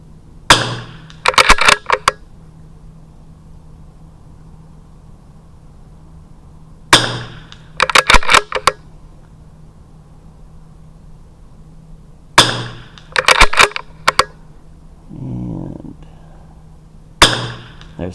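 .22LR rifle shots fired in a match comparing Lapua Center X and SK Rifle Match ammunition, sharp cracks in spaced groups of one to three, each followed by a short echo, with quiet stretches between.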